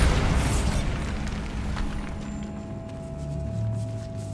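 Bombarda spell explosion in the game Hogwarts Legacy, set in a decaying catacomb: a moderate blast that fades into a low rumbling tail, with a steady tone lingering underneath and no talk.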